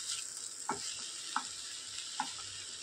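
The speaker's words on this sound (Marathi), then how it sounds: "पुन्हा व्यवस्थित मिक्स करून छान शिजू देऊ भाजी।" Water spinach greens with coarse crushed peanuts and salt being stirred in a pan, a faint steady sizzle under three soft scraping strokes of a spoon spaced about half a second apart, quiet and close.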